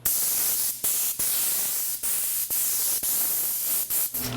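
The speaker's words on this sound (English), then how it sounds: "Blow it off first and clean it up, and we'll go from there." Compressed air hisses steadily from an OSHA-approved noise-reducing blower nozzle while a car is blown off before detailing, a loud continuous rush broken by several brief dips where the trigger is released.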